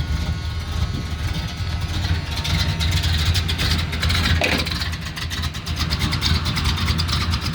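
The engine of a 1979 Chevrolet C10 pickup runs at a steady idle, a loud, close, rough rumble with a brief rise in revs near the middle and some faint clicking on top.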